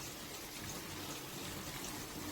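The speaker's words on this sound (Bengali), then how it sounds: "প্রথমে চিংড়ি মাছের জুসটা দিয়ে দিচ্ছি।" Prawn juice poured into a hot pan for a pumpkin, ridge gourd and Malabar spinach dish, producing a continuous close hiss and sizzle with a splashing, rain-like texture and no talking.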